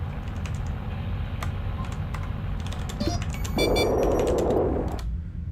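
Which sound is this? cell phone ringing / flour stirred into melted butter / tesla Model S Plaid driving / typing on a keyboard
typing on a keyboard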